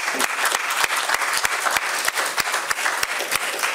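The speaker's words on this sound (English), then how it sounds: "I'd like to give both sides a round of applause again" A press briefing audience claps in a dense, lively burst of applause, with sharp individual claps standing out close by and a few voices mixed in.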